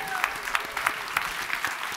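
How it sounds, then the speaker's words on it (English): Audience applause at an award show for a jury judge coming on stage: a steady wash of many hands clapping, with sharper individual claps standing out at intervals throughout. "Round of applause, everyone."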